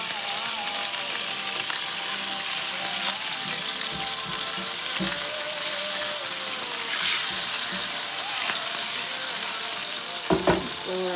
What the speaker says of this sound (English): I'm going to get these little brown bits up and deglaze the pan with a little bit of white provolone